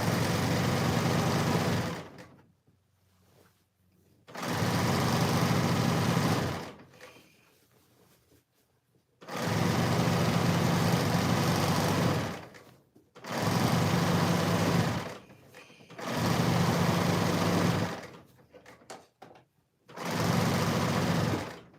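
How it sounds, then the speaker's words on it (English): A serger stitches the inseams of homemade cargo pants in five or six loud, steady bursts of a few seconds each, separated by short quiet pauses while the fabric is repositioned. "I am going to serge the inseams, making sure I have nice clean seams throughout."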